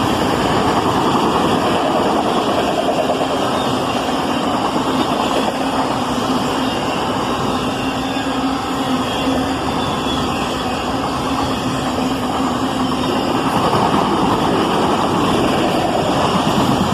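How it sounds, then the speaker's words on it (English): A long CSX freight train of empty autoracks rolls steadily past at speed, a loud, continuous rumbling roar of wheels and rattling cars that holds constant throughout with no voices. "Pretty much this entire train was empty autoracks."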